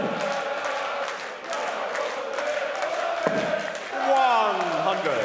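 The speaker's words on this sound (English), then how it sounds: "Must be a great feeling when your name has enough syllables to fit into that chant" A darts crowd at a Dutch Open quarter-final chants a player's name in unison, a dense, steady roar of many voices with rhythmic swells that rises louder toward the end.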